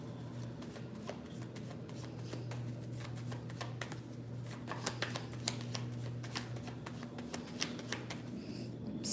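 Lenormand and Tarot cards being shuffled and pulled, a steady papery riffle and flick of card stock running throughout, close and clear, with a low steady hum beneath and no talking.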